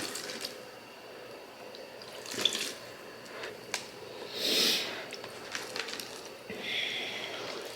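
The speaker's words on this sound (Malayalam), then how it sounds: "ജസ്റ്റ് ഒന്ന് വെള്ളം നനച്ചാൽ മതി" Water trickling and splashing from a small pour onto freshly sown seeds in a seed-starting tray, soft intermittent gurgles and drips with a few brighter splashes, faint and close, no talking.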